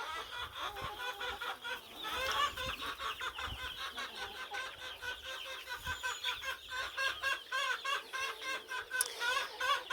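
Free-ranging backyard chickens cluck and chatter continuously after being let out of their coop, many birds close by in a busy, overlapping chorus with occasional louder squawks.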